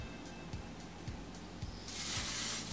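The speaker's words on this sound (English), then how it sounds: "Very hard to press this button, but it feels dry" A close aerosol hair texture finishing spray, with a stiff button, hisses in a steady burst near the end, preceded by faint clicks and rubbing handling sounds.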